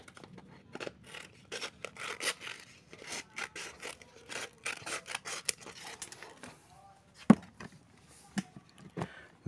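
Scissors snip repeatedly through a piece being cut in two for an exhaust pipe, an irregular run of close, crisp cuts and rubbing with a few louder snaps and brief pauses.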